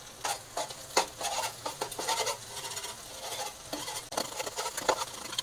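An egg fries in hot oil in a pan for chicken fried rice, with soft crackling sizzle and scraping stirs coming in uneven bursts, close and without talk.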